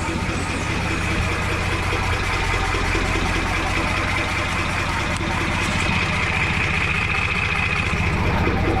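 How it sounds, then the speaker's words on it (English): A sailboat's engine idles steadily after being restarted following years of sitting, a loud, even mechanical drone that runs unbroken from start to end. "How is the engine?"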